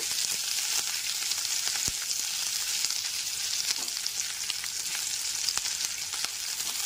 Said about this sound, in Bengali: আদা বাটাটা নাড়াচাড়া করে নেব